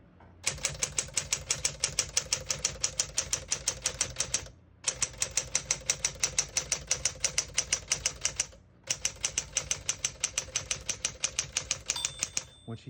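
Typing on a 1963 Smith-Corona Sterling portable typewriter: rapid, steady clacking keystrokes close up, in three bursts separated by brief pauses, with a small bell-like ding near the end.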